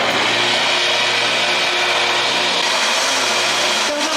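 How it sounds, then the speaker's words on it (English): A woodworking jointer with suspect bearings runs with a loud, steady machine roar and broad whooshing hiss throughout, with a small clunk near the end. "this jointer has been making some not so great noises, so let's just run it for half a minute"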